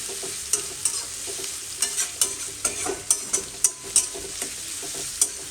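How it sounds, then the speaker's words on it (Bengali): Chicken sautés in a pan under a constant hissing sizzle, punctuated by frequent crisp spatula knocks and scrapes as it is stirred, up close with no talking. "এটাকে মোটামুটি আমি একটু কষিয়ে নেবো 1-2 মিনিটের মতো"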